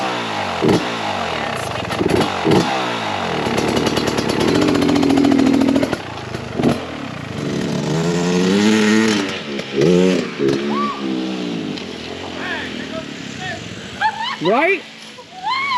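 A two-stroke enduro motorcycle engine revs up and down with the throttle in close, buzzing bursts, mixed with lively talking nearby.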